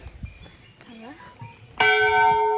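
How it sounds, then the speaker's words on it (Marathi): A large bell at Matheran hill station strikes once, ringing out loud and sustained after a few moments of voices and background chatter. "घंटा बघा कसली मोठी आहे."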